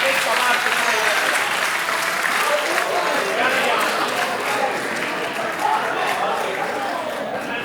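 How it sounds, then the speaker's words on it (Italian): A theatre audience applauds steadily and loudly throughout, a dense continuous wash of clapping from many hands at an Italian stage performance, with no break in the sound. "Un applauso a Donna Anselmo, accogliamo il palcoscenico."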